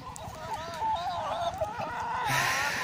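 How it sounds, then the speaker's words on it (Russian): Chickens testing out a new outdoor run give a series of close, warbling clucks and calls that rise and fall, fairly quiet against a light background hiss, with no talking. "Куры, куры, куры."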